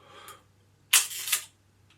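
A Zeiss Ikon Nettar 6x6 folding camera's leaf shutter fires at a slow speed, a small click opening followed by a sharp close about half a second later, crisp and near in a quiet room.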